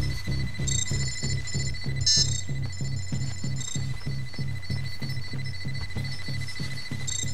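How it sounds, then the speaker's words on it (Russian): Electronic devices in the video game Firewatch beep steadily, a repeating pattern of short high tones over a pulsing low throb, continuous and fairly loud throughout, with no talking. "Тихо, что-то они пикают, пиликают."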